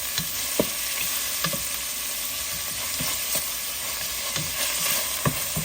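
Ground pork frying in a pan gives a steady close sizzle, with occasional soft scrapes and stirs breaking through, no voices.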